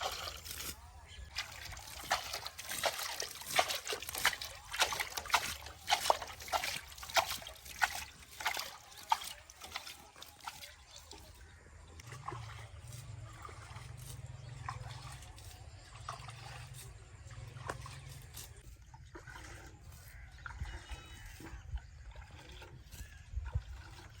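Water poured from buckets onto garlic plants in a field, roughly seven or eight bucketfuls, giving rough splashing and trickling bursts up close, denser early on and then steadier, with a low hum underneath.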